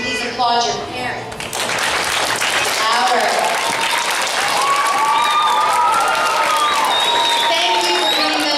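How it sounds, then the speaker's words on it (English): Audience applause with cheering at an elementary school musical production of Honk!, a loud, steady crowd clapping that swells after the first second and holds, with some whoops over it. "can you please applaud your parents?"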